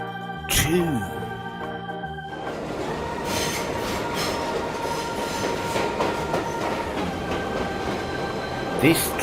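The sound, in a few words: BRIO toy train running on a track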